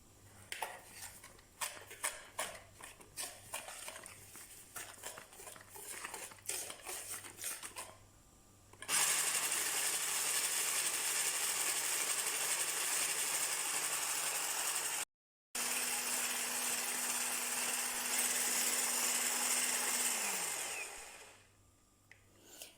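An electric mixer whips egg yolks with sugar for a cake with caramelized pears and nuts, first a quieter rattling stretch, then a loud steady motor whir that holds for about twelve seconds with a brief cut and fades at the end.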